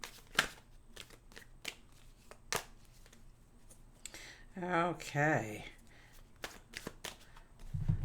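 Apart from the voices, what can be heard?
shuffling tarot cards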